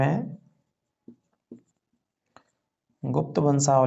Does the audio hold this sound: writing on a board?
yes